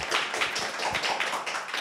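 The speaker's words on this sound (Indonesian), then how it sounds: "Tepuk tangan buat Bang Radit." Lively applause from a studio audience during a casual Indonesian talk show, a steady patter of hand claps that holds its level throughout the short stretch with no voices over it.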